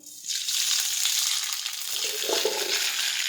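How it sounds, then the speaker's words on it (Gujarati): Mustard seeds hit hot oil in a kadai, tempering for Gujarati kadhi, bursting into a loud, steady sizzle that flares up, stays strong throughout, and carries a few soft crackles near the end. "આપણું તેલ છે તે ગરમ થઈ ગયું છે। હવે આપણે તેમાં રાઈ નાખીશું"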